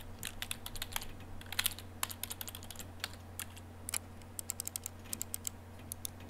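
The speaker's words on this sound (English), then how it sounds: "I guess I'm dozing off while typing." Keyboard typing in the game Everlasting Summer: quick, uneven runs of close, crisp key clicks over a constant low hum, with no speech.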